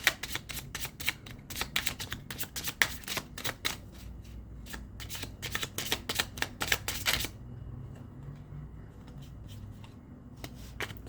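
Objective Oracle card deck shuffled by hand in rapid riffling bursts of crisp card flutter, close and fairly loud, stopping abruptly partway through, leaving a quiet room with a low background hum.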